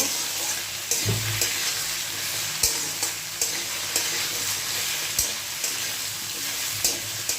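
Bottle gourd, papaya and bitter gourd fry with salt in a pan, giving a loud continuous sizzle with regular clacks and scrapes from stirring.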